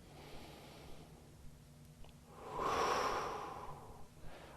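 Slow, deep breaths from a man holding a yoga pose, one long audible exhale near the middle rising over a quiet room, with faint rustling before and after.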